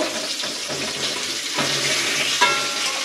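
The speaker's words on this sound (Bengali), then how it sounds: "মাছগুলো ভালো ফ্রাই করবো, খুব বেশি ফ্রাই করবো না, হালকাভাবে ফ্রাই করে নেব" Bhetki fish fillets fry lightly in hot oil, a soft continuous hiss and bubbling with a few faint scrapes and a small clatter near the end, no voices.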